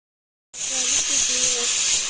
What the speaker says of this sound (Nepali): मैले चाहिँ अब मासु भुट्न लागेको छु